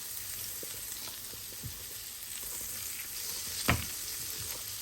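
About 100 grams of butter melts in a frying pan, giving a steady, close sizzle and crackle throughout, with one brief louder clink or spatter partway through.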